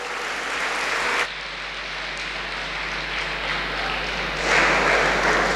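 Crowd applause at an inter-house qiraat, naat and declamation competition in 2022: a steady, dense wash of clapping that dips briefly, then swells louder toward the end.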